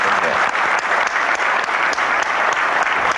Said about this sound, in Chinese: 咱以热烈讲掌声来鼓励